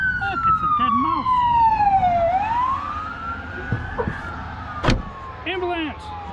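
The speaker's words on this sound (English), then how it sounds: "Ambulance!" A wailing siren sweeps down and back up in pitch, loud and close, with other traffic noise and brief bursts around it.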